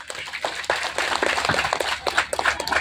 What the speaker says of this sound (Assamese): সাংঘাতিক কাম চবে হাত চাপৰি বজাওক